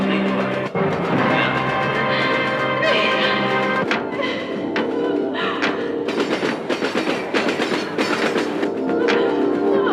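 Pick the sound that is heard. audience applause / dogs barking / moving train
moving train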